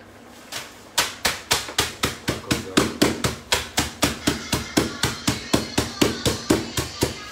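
A small kitchen hammer pounds in a steady series of sharp, evenly spaced blows, about twenty strikes in quick rhythm, close and loud, with no talking.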